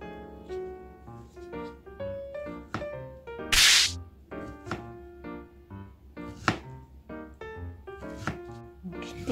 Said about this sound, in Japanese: でこっちのマンゴーはちょっと皮を切って薄切りにしていこうと思います。